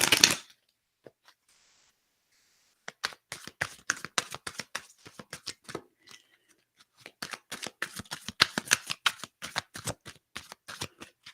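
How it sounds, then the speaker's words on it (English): A deck of tarot cards is shuffled close up in rapid riffling bursts with short pauses between them. The sound is crisp and papery and starts and stops several times, with no voices. "we'll shuffle this deck and get some from the top of this as well"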